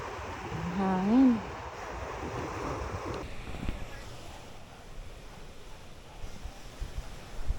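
Wind blowing on an island beach, steady breezy noise mixed with surf rolling in the background, with a person speaking briefly near the start.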